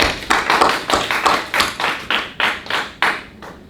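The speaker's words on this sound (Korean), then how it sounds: "박수." A church congregation claps together during a sermon: about a dozen sharp, even claps at a steady beat of roughly three per second, close and fairly loud, with no talking.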